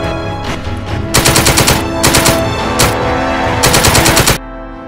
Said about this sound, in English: Ready! Aim! Fire! Man, I sure do love this AK-47.